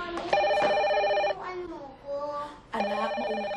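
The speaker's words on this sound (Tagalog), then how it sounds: "Sasagutin ko lang yung telepono, ha?" A telephone rings with two bursts of an electronic bell, loud and close, separated by a gap in which voices can be heard faintly.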